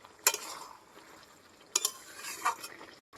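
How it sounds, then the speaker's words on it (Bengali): Fried puti fish curry with eggplant is stirred in a pan, a few scraping clinks of the spoon against the pan over a soft simmering background, fairly close and quiet. "ভালো করে একটু মিশিয়ে নেব"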